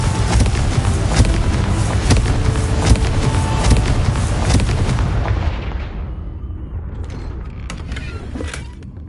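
Confringo and Glacius spells cast in Hogwarts Legacy: dense, loud magical blasts and crackling impacts repeating in rapid succession, creaking and booming, then fading into scattered sparkling hits near the end.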